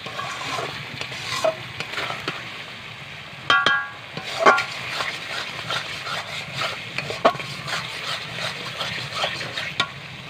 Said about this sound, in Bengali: এবার একসাথে মশলাগুলোকে আমি একটু ভালো করে কষাবো।